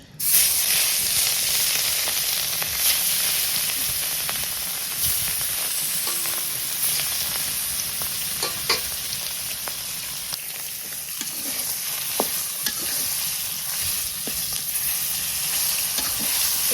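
A steady, close sizzle of fish frying in hot oil hisses on continuously, with occasional small pops and no voices.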